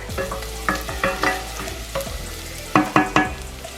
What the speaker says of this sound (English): So first we're gonna add our onions. And then our garlic.